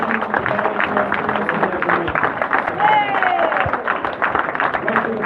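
Audience clapping at a live speaking event in Wisconsin, loud and close, mixed with crowd chatter and voices, with a brief whistle-like tone partway through.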